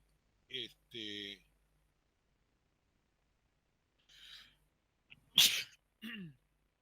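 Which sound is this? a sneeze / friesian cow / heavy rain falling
a sneeze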